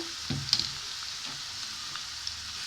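White cooking oil sizzles in a frying pan while mustard hilsa fish is prepared, giving a steady, moderately loud hiss with a few faint stirring clinks.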